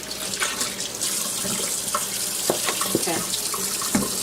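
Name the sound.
running water from a tap while washing hands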